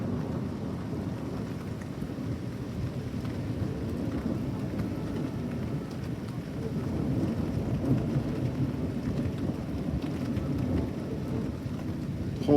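A tornado-warned severe thunderstorm: steady heavy rain and rumbling thunder roll on without a break, swelling louder partway through, with wind and no voices.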